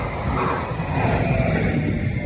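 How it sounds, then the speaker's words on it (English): A train passes with a dense, steady rumble and rail noise that fills the whole stretch at an even, fairly loud level, with no voices over it. "the train is coming"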